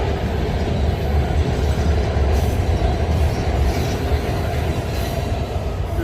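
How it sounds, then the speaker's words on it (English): A train rolls past continuously, a loud, steady rumble of wheels and rail cars with faint clatter and occasional squeal, heard alone without talk. "The train."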